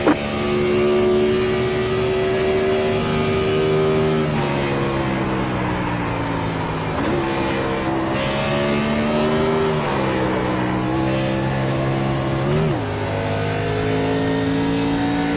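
Race car engine in the iRacing simulator drones continuously at high revs, its pitch dipping and climbing through gear changes and corners, heard alone without talk.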